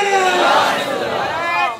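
A large crowd at a religious gathering in Faisalabad shouts the takbir response in unison, a loud, dense roar of many voices that swells and then fades over about two seconds.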